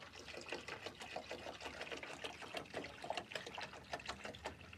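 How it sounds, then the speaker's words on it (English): Distilled water pours into a container in a spa treatment room, a faint, uneven trickle and splash with small bursts, heard close up without talk. "So I'm putting in distilled water."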